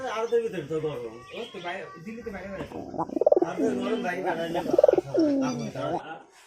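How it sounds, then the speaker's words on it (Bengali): A red pigeon and its mate, among other pigeons resembling rock doves, coo with repeated throaty calls, partly overlapped by a person talking nearby. "দেখতে পাচ্ছ লাল পায়রিটা হচ্ছে, সাথে এটার জোড়া দিতে যাচ্ছি।"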